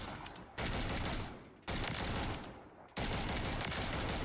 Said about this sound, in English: the big drawback on the gun is its slow fire rate